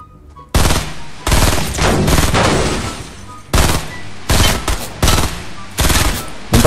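Rapid bursts of gunfire in the Fortnite battle royale video game, loud automatic volleys starting and stopping in several clusters with short gaps between them.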